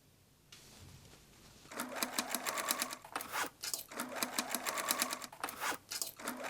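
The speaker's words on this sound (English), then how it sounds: "Sew facing to lining and add closure." A sewing machine stitches facing to the lining of a shoulder bag made from old denim jeans. It starts after a quiet moment and runs in close, rapid bursts with brief pauses between them, with no talking.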